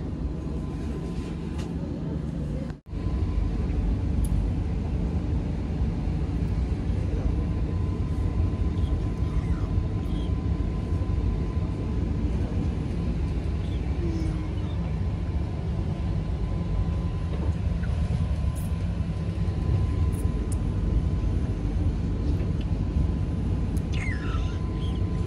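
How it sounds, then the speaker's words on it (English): Steady low rumble inside a stationary train waiting to depart, a continuous hum and drone with a brief dip early on and faint talking in the background. "We are inside the train."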